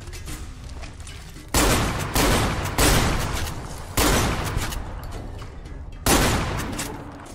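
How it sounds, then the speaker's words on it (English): Shotgun blasts in the video game Fallout: New Vegas, five or six loud, close booming shots fired at uneven intervals over a few seconds, with background game noise between them. "Oh, close quarters, shotgun time."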